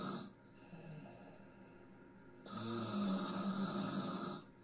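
Snoring from a sleeping person at night, with a quieter breath cycle first and then a louder, rough, rattling snore that swells and holds for about two seconds, close and alone.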